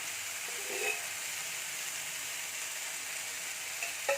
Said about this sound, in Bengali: একটু ভালোভাবে নাড়াচাড়া করে নিয়ে আমি আর একটু তেল দিয়ে দেবো